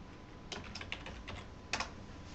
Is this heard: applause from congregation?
no